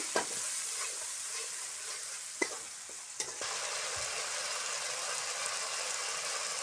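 Tomatoes fry in oil with a continuous hissing sizzle, fairly soft and close, broken by a couple of sharp spatula clicks against the pan.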